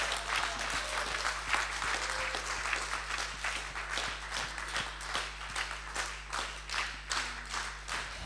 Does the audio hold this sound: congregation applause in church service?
yes